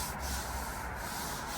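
Wood being sanded by hand on a narrowboat gives a soft, steady scratchy rubbing, with a few brief strokes over a quiet background.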